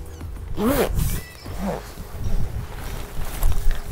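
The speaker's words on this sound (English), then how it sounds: "I'm just gonna pull it up with my one hand as I zip it with the other" A zipper on an Oztent RV tent fly is pulled closed in a few short rasping strokes, close and moderately loud, with faint rustling of fabric and no talk.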